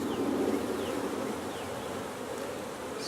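Honey bees swarm in an opened beehive's bottom box, a dense, continuous buzzing hum close by, with individual bees droning past.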